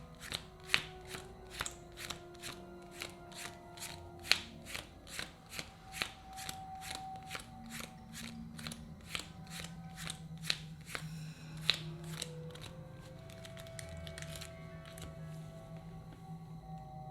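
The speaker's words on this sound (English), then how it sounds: "we can shuffle all the decks" Several decks of cards for a tabletop board game being shuffled, a quick run of crisp riffles and snaps with sliding card noise between them, close and fairly quiet.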